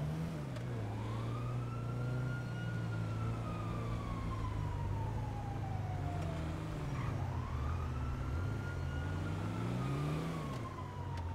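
A police siren wails from a passing emergency vehicle, rising and falling in long sweeping cycles, fairly close and steady over road traffic noise, with no talking.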